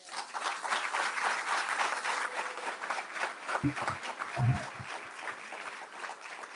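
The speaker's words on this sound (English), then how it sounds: "I want y'all to give them a round of applause." Applause from a homecoming press conference audience at SU, steady broadband clapping filling the room for several seconds with a few low thumps partway through.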